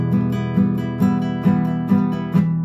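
Strummed guitar chord repeating in a steady down-up rhythm, with accented strokes about every half second, close and fairly loud with no talking.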